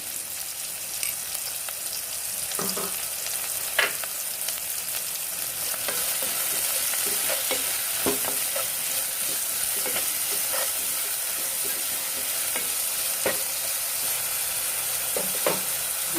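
Onions sauté with salt in a pan for kabsa, giving a constant close sizzle and hiss with scattered spoon clicks and stirring scrapes throughout.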